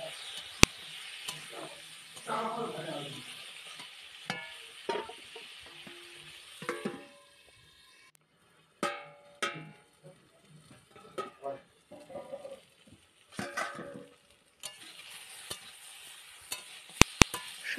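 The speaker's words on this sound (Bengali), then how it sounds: "এবার লবণ হলুদ দিয়ে ভালো করে আলুটাকে নেড়ে চেড়ে ঢাকনা দিয়ে লাল লাল করে কষে নেব" Potato pieces fry in fish oil with salt and turmeric, giving a faint, soft sizzle. Intermittent stirring scrapes and clicks come and go, with quiet gaps between them.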